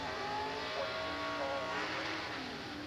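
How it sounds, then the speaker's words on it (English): A rear-engine Super Pro dragster runs at the drag strip, its engine producing a faint, sustained drone in the distance with no talk over it. "Here's a rear-engine dragster, one of the more popular styles of approach to Super Pro racing nowadays."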